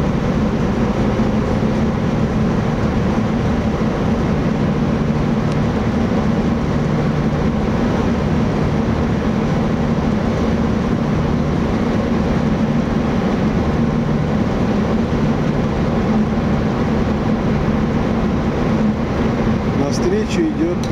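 Ferry engine hums steadily and loud as the vessel pulls away from a pier in Sevastopol, Crimea, a continuous low rumble with a dense broadband roar, close and constant throughout.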